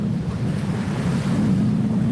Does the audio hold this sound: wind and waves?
yes